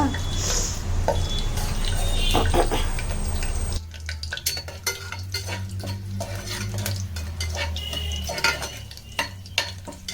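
Spices and a bay leaf fry in hot oil in a pan, a steady sizzle with frequent clinks and scrapes of a spoon stirring against the metal, the hiss easing partway through while the stirring continues.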